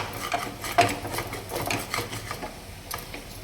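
A spatula stirs a raw banana stir-fry in a steel pan, making soft scraping clinks and light sizzling in an uneven rhythm, close and moderately loud, with no talk.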